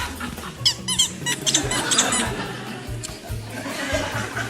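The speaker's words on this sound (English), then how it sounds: "You've got some very squeaky chairs in here." Chairs on a television studio set creak and squeak loudly in a quick run of high, wavering squeals as people shift their weight. Brief low sounds and laughter come in between the squeaks.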